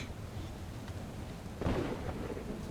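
Low rumbling thunder from a storm in the video game Metro Exodus, a deep roll swelling partway through over a steady background of rain-like hiss; moderately loud, no talking.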